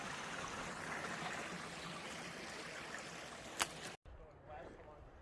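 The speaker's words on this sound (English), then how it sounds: "We even have a little waterfall." A small trailside waterfall on the Arizona Trail gives a steady, broad rush of falling water close by, continuous and fairly loud, until it cuts off abruptly near the end.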